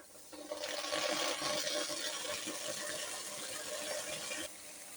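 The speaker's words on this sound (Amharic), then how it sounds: "አሁን የፈላውን ውሃ እንጨምርበታለን።" Boiled water poured into a cooking pot, a loud, steady gushing splash that starts abruptly, stays strong for about four seconds and then cuts off, with no talking.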